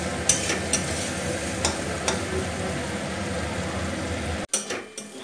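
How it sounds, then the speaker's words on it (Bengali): Garlic, onion and dried fish being mashed into bhorta in a home kitchen, steady soft scraping and stirring with occasional sharp clicks of the utensil, close and continuous, ending in a few distinct knocks. "যতক্ষণ না এই যে রসুন, পেঁয়াজ আর শুটকি মাছটা একদম ভালো করে স্ম্যাশের মতো হয়ে যাচ্ছে।"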